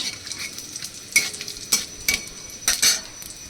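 Bay leaves, dry chillies, cinnamon and cardamom sizzle in hot oil under a steady fry, with several sharp stirring scrapes of a spoon against the pan.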